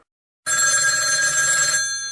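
After a moment of silence, a telephone ringtone bursts in loud and close as a bright, continuous electronic ring, then trails off near the end.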